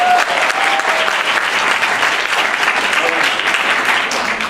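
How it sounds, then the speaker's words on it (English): Loud, sustained audience applause for Terry and David, a continuous dense roar of clapping from a crowd, with some voices blended in beneath it. "Let's give Terry and David a round of applause today."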